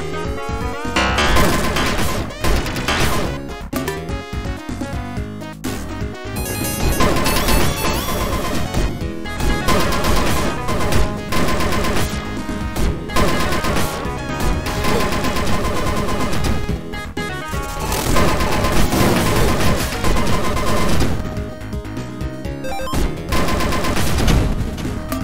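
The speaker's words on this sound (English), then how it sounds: "Mini artillery." Mini artillery in the Snap The Sentinel video game fires in dense, continuous crashing bursts, loud and relentless for the whole stretch, layered over busy game sound with no pause.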